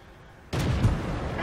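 Hummel artillery shell striking a tank in the World of Tanks game, a sudden loud boom bursting out of near silence followed by a rumbling impact.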